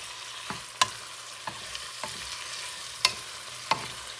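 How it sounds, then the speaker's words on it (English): Beef tripe being stirred in a pot for Puerto Rican mondongo soup, soft scraping and clacking strokes at irregular intervals over a faint background sizzle. "Let me mix the meat too."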